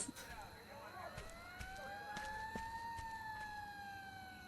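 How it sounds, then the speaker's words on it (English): A police car siren in the video game Destroy All Humans! wails in a slow rising and falling tone amid scattered game noises, fairly faint in the background. "there's supposed to be a police car siren coming there"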